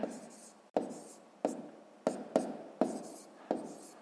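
A pen scratches numbers onto paper, with a series of sharp taps where strokes begin followed by short scraping trails, close and quiet, about seven strokes in an irregular rhythm.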